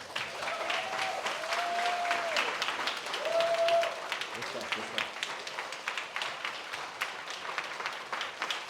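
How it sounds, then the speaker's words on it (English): A seminar audience in Cancun applauds and rises for Marvin, with sustained clapping from a full room while someone talks over it through a microphone and feedback tones ring briefly. "Let's clap it up for Marvin, guys."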